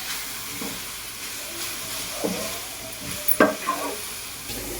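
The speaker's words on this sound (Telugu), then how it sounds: "కొబ్బరి ఆ బెల్లాన్ని మంచిగా పీల్చుకొని మంచిగా రెడీ అయ్యింది బాగా కలిపి దింపుకోవాలి" A coconut and jaggery filling for modak is being stirred in a hot pan, giving a soft background sizzle broken by several scraping strokes of a spoon against the pan, the loudest clustered near the end; no talking.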